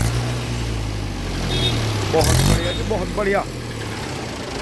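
A low, steady tractor engine idles throughout while someone speaks over it with enthusiasm.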